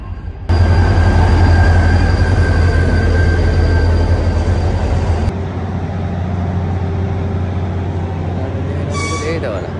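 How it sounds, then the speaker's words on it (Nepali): A train pulls into a station on the way to Iksan, its loud, heavy rumble filling the platform before dropping abruptly to a quieter hum, with a brief high squeal near the end. "म जाने ट्रेन आए जस्तो छ पछाडिबाट"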